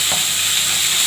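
Spices tempering in hot oil for a Bengali curry with ginger paste and water, giving a steady, loud, close hiss of sizzling that holds evenly throughout with no voices.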